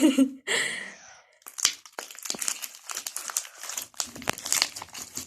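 Slime is squeezed and popped by hand, giving a string of close, irregular crackles, crinkles and wet snaps, with a short burst of voices at the start.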